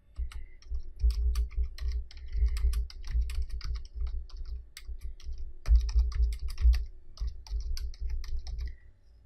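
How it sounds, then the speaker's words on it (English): Steady typing on a computer keyboard, with rapid irregular clicks of keys struck in bursts and a few heavier taps, close and clear with no talk. "And I'm going to type in here, talk to Janelle and Ashley."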